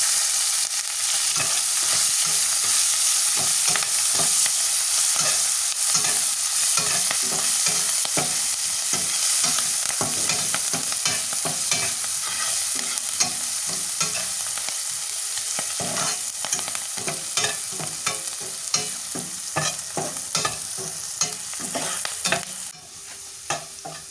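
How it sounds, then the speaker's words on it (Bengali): Green chilies and onion frying in hot oil with a steady, loud sizzle, broken by frequent stirring scrapes and knocks of a spoon against the pan throughout, with no talking. "এবারে তেলের মধ্যে কাঁচামরিচ আর পেঁয়াজ দিয়ে দিই"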